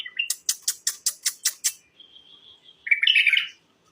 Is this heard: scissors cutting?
no